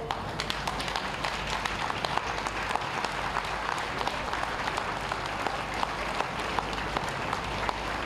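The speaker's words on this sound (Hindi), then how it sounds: "अपने स्थान पर जरा खड़े हो जाएं और 1 मिनट तक सर को अपना बहुमूल्य समय देने के लिए तालियों से उनका अभिनंदन" Audience applause at a health ATM centre inauguration in Gorakhpur attended by the chief minister: dense, steady clapping from a large crowd that fills the whole stretch at even loudness, with no voices above it.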